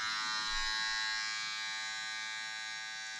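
Electric hair clippers run during a haircut, giving a steady, close, continuous buzzing hum that holds at an even level the whole time, with no voices over it.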